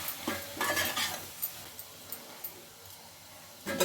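Sesame, coriander and dried coconut powders are stirred into an eggplant curry, with a few close scraping strokes of a spoon against the pan over a low simmering sizzle, the scrapes clustered early and again at the end.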